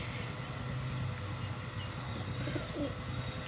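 Teddy, golden and slaty pigeons kept in Jhanjoti village, gathered to feed on grain, give soft coos and a few chirps over a steady low background hum, quiet and continuous.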